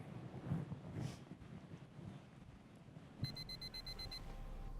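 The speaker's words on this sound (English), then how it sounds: "Your alarm clock at 5 a.m." Alarm clock ringing in a US Figure Skating promotional spot, a rapid electronic beeping pulse that starts partway through after softer windy, muffled background noise.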